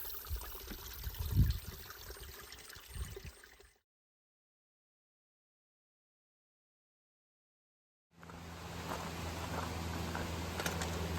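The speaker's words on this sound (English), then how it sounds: "This is Roush Creek" Creek water runs and trickles through a large beaver bog at Roush Creek, a steady close flow for a few seconds before the sound cuts out, then a broader rushing noise resumes.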